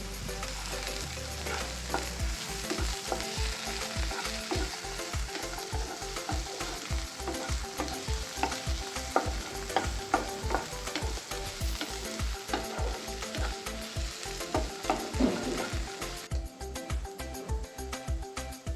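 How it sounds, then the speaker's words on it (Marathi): Chopped capsicum and carrot stir-fried in a pan for jowar pulav, with a steady loud sizzle and a quick, regular scraping of the spatula that continues to the end. "आता ढोबळी आणि गाजर एकदम टाकून तेही मिक्स करून घेऊ."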